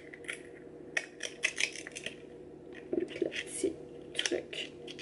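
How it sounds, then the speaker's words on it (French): A jar of turmeric and cranberry seed brightening face mask is handled and opened close up, with quiet clicks, taps and scraping of the lid in short irregular bursts. "Avant, je vais ouvrir le pot."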